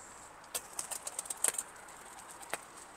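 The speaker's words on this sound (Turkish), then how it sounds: "Kuş çok zayıf kalktı dediğin gibi." A pigeon takes off from a coop, a quick flurry of close wing flaps that fades out, followed by one last faint flap in an otherwise quiet setting.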